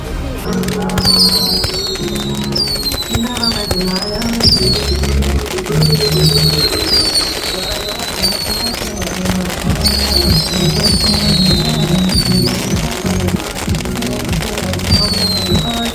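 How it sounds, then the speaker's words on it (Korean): Fireworks launched from gathered yachts off the Busan coast go off continuously at a distance, crackling and whistling rockets over a steady crowd murmur and people chatting nearby. "폭죽이 괜찮네"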